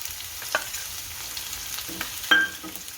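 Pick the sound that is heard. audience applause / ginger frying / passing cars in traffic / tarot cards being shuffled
ginger frying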